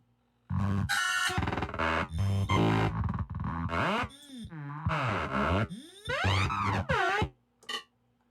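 Choppy, stuttering bursts of processed drum sound from a randomized note-repeat glitch effect in Bitwig jump and warble unpredictably, with glitchy repeats and pitch sweeps cutting in and out.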